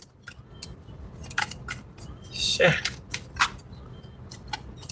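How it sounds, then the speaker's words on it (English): Tarot cards being shuffled give a series of quick, crisp riffling and slapping bursts at close range, irregularly spaced, while a person briefly curses. "That's why I'm shuffling these cards."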